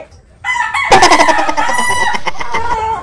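A chicken clucks and crows loudly and close up, a sustained raspy call running for a few seconds after a brief quiet start.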